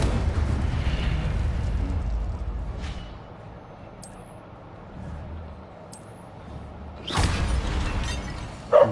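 Incendio fire spell cast in Hogwarts Legacy on PS5, a rumbling rush of game sound that fades, then a sharp fiery burst near the end, loud and close.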